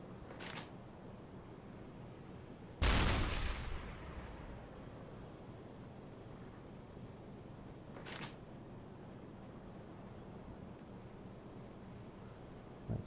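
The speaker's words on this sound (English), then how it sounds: "Get some shots into their waterline, try and get her sinking" Deck gun on a U-boat in the Uboat naval game fires a few sharp, widely spaced shots, one loud near blast with a ringing decay and two fainter cracks, over quiet sea ambience.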